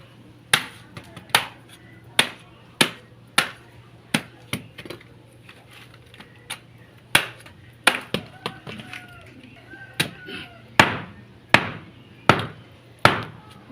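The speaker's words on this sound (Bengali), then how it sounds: "তো চলুন এই তালটা আমি এবার কেটে নেব।" A palm fruit is hacked open with repeated sharp chops, about twenty hard strikes in an irregular rhythm, close and loud, with someone talking quietly between blows.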